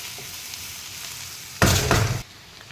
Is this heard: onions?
yes